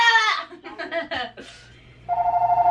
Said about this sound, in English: That is my phone. Hopefully it stops ringing.